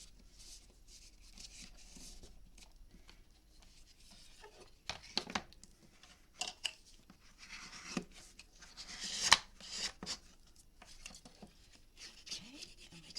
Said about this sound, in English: Okay, and we're going to burnish that